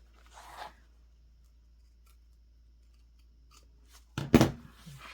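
Scissors cut bag fabric to match a curve, a few faint snips early on, then a sharp, louder cluster of close cutting sounds near the end in an otherwise quiet room.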